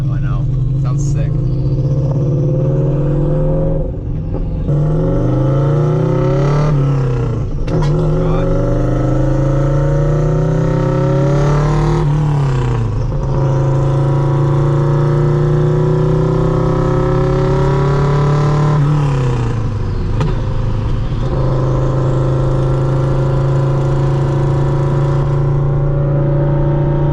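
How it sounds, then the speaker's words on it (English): A Subaru WRX with a fender exit exhaust drones loudly from inside the moving car, rising and falling through gear changes with brief dips as it shifts, while people talk over it throughout. "Some nice backfires."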